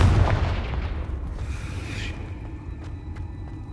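Confringo blasting spell from Hogwarts Legacy on Xbox Series X, a loud close fiery boom that bursts at once and rolls off into a rumbling decay, with faint crackling debris trailing after.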